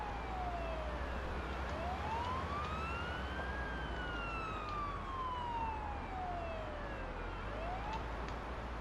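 An ambulance siren in a paramedic driving video game wails in long rising and falling sweeps, loud and continuous over a low engine rumble, with no talking.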